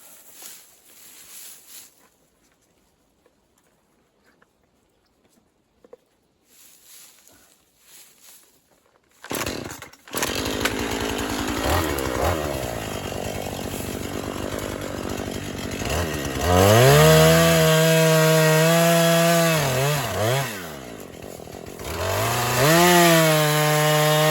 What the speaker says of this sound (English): we're gonna go ahead and make our beveled face cut and move into the back cut